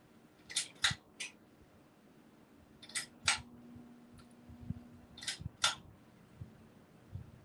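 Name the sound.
scissors cutting cellophane wrapping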